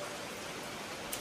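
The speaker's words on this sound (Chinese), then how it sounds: "这个雨下的这么大" Heavy rain pouring down outdoors, a soft continuous hiss heard faintly and evenly for a brief moment, with no voices.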